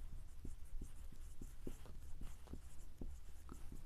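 Pen or chalk writing out a ratio during a maths lesson, a series of short, regular taps and scratches over a quiet background with no speech.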